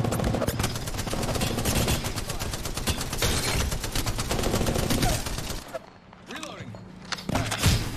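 Rapid automatic gunfire from Apex Legends combat, dense bursts of shots rattling continuously for several seconds, then breaking off into a brief lull before more shots resume.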